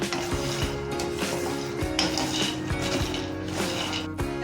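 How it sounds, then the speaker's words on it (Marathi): Peanuts being roasted in a pan over a medium gas flame and stirred continuously with a spoon, giving steady scraping and rattling that runs through the whole stretch without talk. "ढवळत राहिला ना चमच्याने की शेंगदाणे सगळे एकसारखे भाजले जातात"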